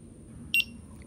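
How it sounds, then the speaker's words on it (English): A PAPASAFETY personal keychain locator alarm gives a short double beep, two quick high chirps close together, over a steady low background hum. "Now we're gonna try the item locator. 1, 2, and 3. And the alarm."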